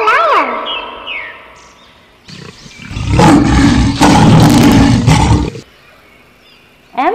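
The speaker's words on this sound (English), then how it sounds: "L for lion." A lion's roar rises as a loud, close, sustained growling burst in the middle, with brief bird-like chirps before it and a sharp sound at the end.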